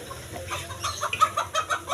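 Chickens cluck close by in a quick run of short, sharp calls that build in the second half, heard clearly with no talking.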